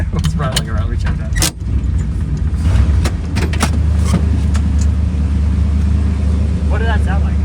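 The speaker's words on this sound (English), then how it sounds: "What's rattling around?" Rattling and tapping inside a 1975 Chevrolet Monza with a 350 V8, heard from the cabin as a steady engine and road rumble with scattered clicks and knocks, while someone talks over it.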